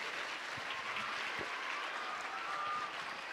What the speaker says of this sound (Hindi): एक बार भाई साहब के लिए जोरदार ताली आपकी हो जाए